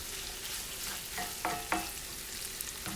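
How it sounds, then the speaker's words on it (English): Onions and mixed vegetables frying for an Italian frittata, a steady low sizzle in a pan with a few sharp scraping stirs of a utensil midway. "I'm cooking the veggies until the onions actually become"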